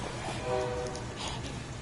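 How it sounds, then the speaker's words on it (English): A distant train rumbles past with a brief horn-like tone rising out of the low background noise. "There's a train going by."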